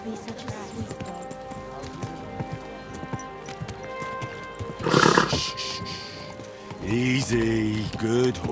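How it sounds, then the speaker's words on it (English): A horse in Kingdom Come: Deliverance II gives a loud, close neigh in a short burst near the middle, then a longer whinnying call toward the end, over game ambience and hoof movement. "Easy, good horse"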